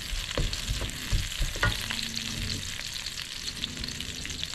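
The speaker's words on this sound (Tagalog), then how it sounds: "pagkatapos igigisa natin yung ating bawang at sibuyas" Onion sautés in a hot pan alongside garlic, crackling and sizzling steadily up close while being stirred, with scraping and clattering of a utensil through the short stretch.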